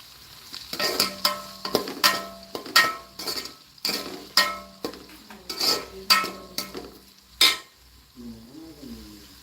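Onion, chilli and curry leaves sizzle in a pan while a metal spoon scrapes and clatters against it in a repeated rhythm of stirring strokes, close and clear, with a short hum near the end.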